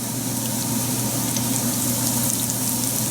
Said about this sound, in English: we'll fry the mushrooms in batches